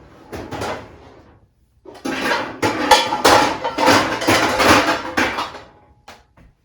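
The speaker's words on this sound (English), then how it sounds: "All the clanging." A metal skillet clangs and clatters as it is pulled out in a home kitchen, a series of loud bangs and scrapes after a brief quiet moment.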